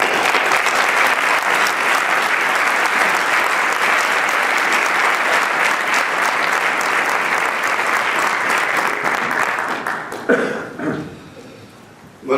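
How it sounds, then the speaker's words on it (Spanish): Sustained audience applause for Alfonso at a book presentation, loud and dense clapping filling the room, then thinning out and fading near the end. "voy a pedir tener un aplauso a Alfonso"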